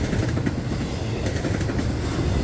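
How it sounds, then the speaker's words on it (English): Freight train led by a rebuilt SD60E and an ES44DC with an ES44AC trailing rolls past close by, a steady loud rumble of engines and wheels with rhythmic clickety-clack throughout. "This train is led by another rebuilt ST60E and ES44DC and cousin ES44AC locomotives trailing."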